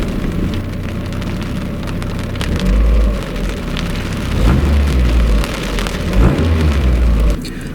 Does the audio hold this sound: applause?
no